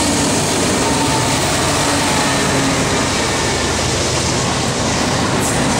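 A Norfolk Southern M3R manifest freight train passes at track speed behind CW44-9, SD70 and ES44DC locomotives, making a loud, close, continuous roar of rumbling wheels and rolling cars.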